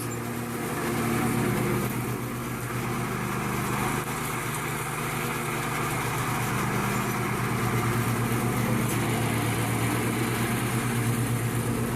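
A lawn mower cutting tall thick grass, a loud steady engine drone with a constant low hum that holds throughout, close by, no talk.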